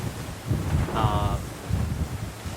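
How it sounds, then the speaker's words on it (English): Strong gusts of outdoor wind buffet the microphone in rumbling, uneven waves near a shoreline during a camera polarizer test, with a brief voice heard under the roar. "this wind! Holy smokes!"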